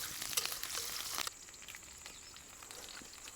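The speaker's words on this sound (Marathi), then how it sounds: "मिरच्या पण चांगल्या तळल्यात" Garlic and chilies frying in a pan for a fenugreek-style vegetable dish, a steady close sizzle that is louder for the first second and then settles into a softer continuous crackle.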